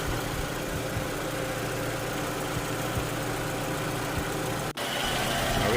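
A Toyota Highlander engine idles steadily right after a radiator replacement, a continuous mid-low hum with faint knocking pulses and a brief dropout near the end.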